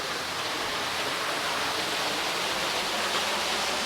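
Steady broadband rush of a small waterfall hidden in a secluded spot in Punjab, water pouring continuously and evenly with no pauses, close and fairly loud, no voices.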